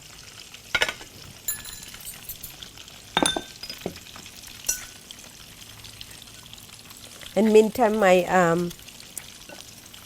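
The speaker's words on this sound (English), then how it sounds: "cutlet is frying. I'm cooking it slowly" Beef cutlet frying slowly in a pan, a faint, steady sizzle under occasional utensil clinks, with a voice speaking briefly near the end.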